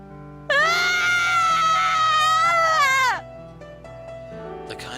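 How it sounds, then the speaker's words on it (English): A shrill, drawn-out shriek in the visual novel Dies Irae, loud and wavering for about three seconds before cutting off, leaving a quieter murmur of background sound. "And so came another shriek."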